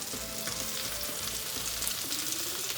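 Green chilies sauté in melted butter in a pan for chicken Mughlai, a steady bright sizzle with faint stirring movements, close and even throughout with no voices.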